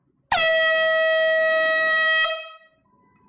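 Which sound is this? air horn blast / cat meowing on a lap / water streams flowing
air horn blast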